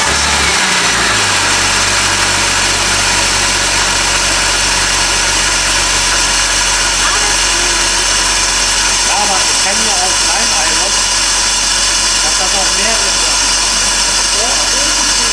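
An old, worn car that is losing oil cranks and starts, then settles into a loud, steady idle that runs without a break. Voices talk over the engine.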